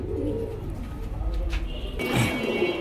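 Red-marked Gola pigeons coo softly nearby in low, rolling calls, with some shuffling and a brief rustle toward the end.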